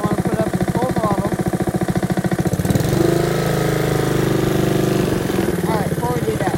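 A Honda HRR216 lawn mower engine is running at full throttle, a loud, steady, close mechanical drone. Its tone shifts and smooths briefly midway before settling back into the same rough throb.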